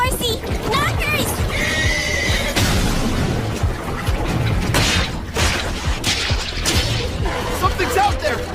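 Horse whinnying and hooves clip-clopping in an animated fantasy battle scene, loud and busy amid crashes and commotion, with voices speaking over it.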